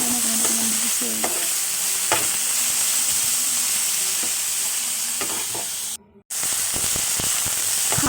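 Drumstick leaves (sajina saag) frying in a pan with turmeric and spices, a loud close sizzle broken by stirring clatter and scraping, continuous apart from a brief cut near the end, with no voices.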